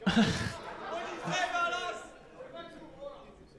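Crowd chatter in an esports arena during a CS:GO match, a lively murmur of many voices with some laughter, rising and then fading under a close commentator's voice.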